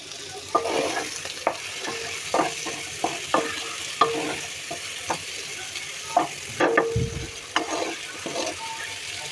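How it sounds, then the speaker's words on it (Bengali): Spices sizzle and fry in a pot while a spoon scrapes and stirs them in quick, scattered strokes over a soft, continuous hiss. "একটু ভাজা ভাজা হোক, তারপর পানি দিব।"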